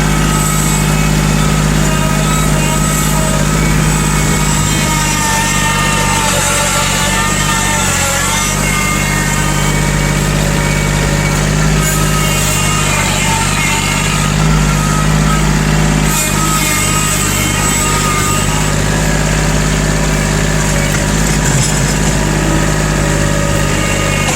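A Kubota L2501 tractor engine runs steadily with a low, throbbing drone and rattling vibration, continuous and close, no voices, while plowing snow.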